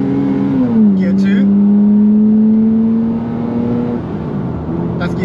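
BMW 325i E30 from the 1980s with a four-speed gearbox, accelerating in manual mode onto a dual carriageway; steady engine drone rises and drops with a gear change, close and loud, with someone talking over it.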